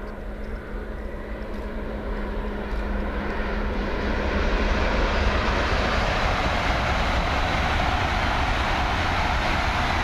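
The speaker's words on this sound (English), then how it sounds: "And up Azuma passes towards London on the line to Doncaster." An LNER Azuma train passes at a level crossing heading towards London, a broad rushing rumble that swells and then holds loud and steady as it goes by, with no voices.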